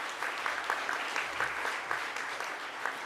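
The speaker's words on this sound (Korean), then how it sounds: "여러분 뜨거운 박수로 축하의 마음을 전달해 주시기 바랍니다" An award ceremony audience claps warmly, a moderate, even patter of many hands with faint individual claps standing out, fairly distant and steady throughout.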